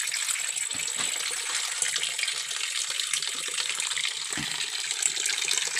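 Water pours steadily from a tap into a drum on a farm, a continuous hissing gush that stays close and even throughout, with a couple of faint low thumps and no talking.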